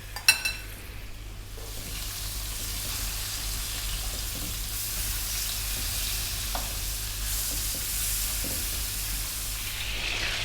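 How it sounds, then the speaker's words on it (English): Chicken legs fry in a pan at medium heat, giving a steady, even sizzle with a few faint clinks near the start and no talking. "You can hear that I wasn't frying it in a rage"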